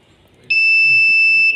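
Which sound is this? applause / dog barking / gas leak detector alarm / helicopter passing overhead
gas leak detector alarm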